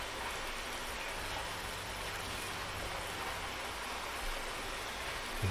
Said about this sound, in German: Gewitter, also Regen ist hier immer extrem